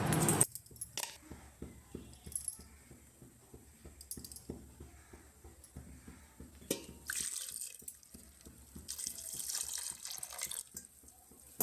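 Water pours into a pan for chana dal in a home kitchen, a soft steady splashing trickle with quiet drips and light clinks, close and faint, no talking.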